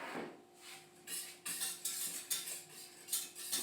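Crispy tofu is stirred in a pan, a utensil scraping and clinking against the metal in quick, repeated strokes with a faint steady hum underneath.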